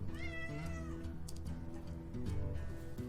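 A house cat meows at a desk, several drawn-out, wavering cries near the microphone over a steady background of game music.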